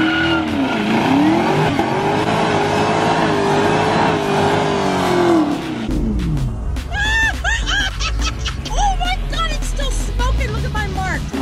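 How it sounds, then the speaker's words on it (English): Loud car engine revving hard through a tire burnout held with a line lock, with a steady roar for about six seconds, then a lower rumble under bursts of chatter and laughter from people nearby. "That's pretty serious burnout there"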